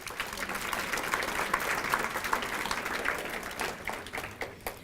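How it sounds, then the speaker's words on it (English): A room full of people at an annual volunteer breakfast claps steadily, a dense close patter of hands that thins and fades toward the end. "Let's give him a round of applause."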